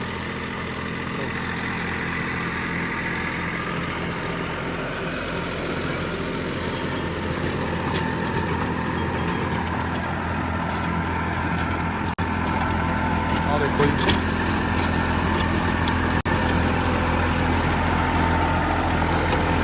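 Massey Ferguson 241 tractor engine running at a steady idle, a low continuous rumble close by, with people talking over it throughout.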